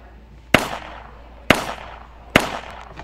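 Makarov pistol fired in a Roblox video game: three sharp, evenly spaced cracks about a second apart, each ringing out briefly, loud and close with no talking.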